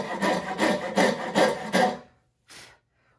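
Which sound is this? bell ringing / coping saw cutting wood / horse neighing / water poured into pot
coping saw cutting wood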